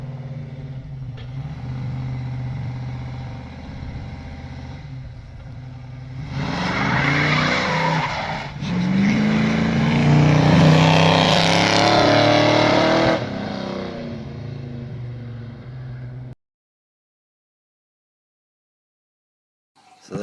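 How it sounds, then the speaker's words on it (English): A ZL car runs the Cooma Hill Climb with a loud, steady engine drone that swells into a harder-pushed stretch with tyre squeal, then cuts off abruptly into silence. "How cool is that footage of Craig's ZL up there at Cooma Hill Climb"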